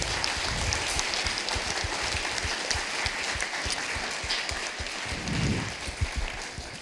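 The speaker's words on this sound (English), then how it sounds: "a warm applause for all these people who made it to here and shared their story" Warm audience applause fills a conference keynote hall, a steady wash of many hands clapping throughout with a few louder individual claps standing out.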